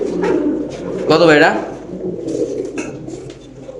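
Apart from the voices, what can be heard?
Tiger Danish pigeons cooing at a pigeon farm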